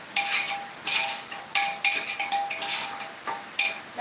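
A spoon scrapes and clinks against a pan while ground coconut and garlic tempering with cumin is stirred and sautéed, in repeated metallic knocks and scrapes at close range without speech.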